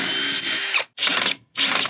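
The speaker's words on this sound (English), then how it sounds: "if you're drilling into concrete, you need a carbide tip bit and a hammer drill" A hammer drill with a carbide-tipped bit bores into concrete in three loud bursts of harsh rattling grind, each cut off by a brief silence.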